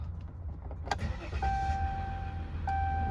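A 2014 Dodge Ram 1500 diesel Longhorn 4x4 with 102,000 miles starts up: a brief click and starter whir settle into a low, steady idle rumble with a faint high whine from the cabin.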